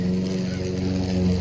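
A lawn mower engine drones steadily nearby with a low, rhythmic throb, constant and fairly loud throughout.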